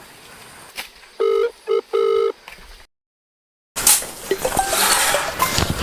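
A telephone is dialed for a call: a run of steady electronic tones in short blocks, then a brief silence before louder background noise follows, close and clear.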